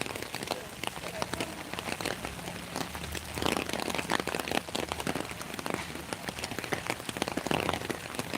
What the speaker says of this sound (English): It's too much rain to sit down and do some kind of a blessing today.